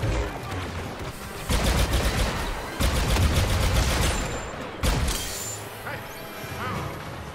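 Rapid blaster fire and impacts in a Star Wars video game, loud dense bursts with sharp cracks, over game noise, with people talking throughout.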